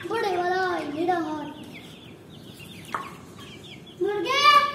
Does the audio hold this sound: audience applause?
no